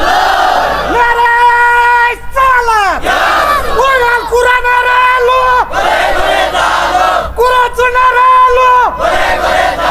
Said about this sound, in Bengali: দুই হাত তুলে বলো তাকবীর